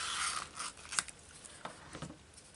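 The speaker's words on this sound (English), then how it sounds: "Scissors. And then we'll cut." Scissors cut through craft material for making journal dangles and charms, giving several crisp snips and scraping blade sounds in a quiet room, close and fairly soft, with no talking.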